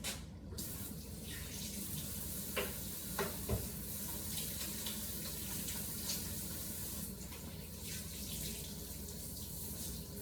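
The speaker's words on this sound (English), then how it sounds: "let me wash my hands" Tap water runs steadily into a sink for hand washing in a home kitchen, a continuous broadband rush with a few faint clinks, heard alone without talking.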